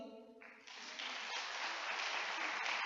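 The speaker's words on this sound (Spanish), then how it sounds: "¿Quiere aplaudir?" A church congregation bursts into applause during a Spanish-language sermon, the dense clapping swelling quickly and holding steady and loud as a full room of hands joins in.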